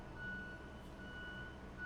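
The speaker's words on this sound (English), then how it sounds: "I apologize for the beeping." Faint, intermittent electronic beeping repeats in the background as a thin steady tone over a low hum in an otherwise quiet room.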